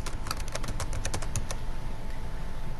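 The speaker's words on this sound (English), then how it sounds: "Next, we'll type in total expenses." Fingers tap out a quick burst of keystrokes on a computer keyboard while entering spreadsheet figures, a close run of crisp clicks that stops after about a second and a half, leaving quiet room tone.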